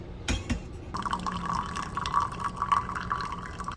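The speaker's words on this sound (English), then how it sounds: "I am just gonna make myself a little coffee." Water is poured into a cup to make coffee, starting with a couple of clinks, then a steady close trickle and splash that continues for about three seconds.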